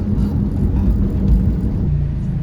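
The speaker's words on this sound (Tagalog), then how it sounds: "At first time kong ilabas tong second hand na sasakyan na to" A second-hand car being driven, with a steady, close low engine and road rumble filling the cabin throughout and no voices.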